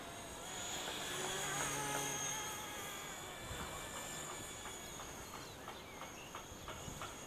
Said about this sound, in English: Lovely little semi-scale helicopter, this one.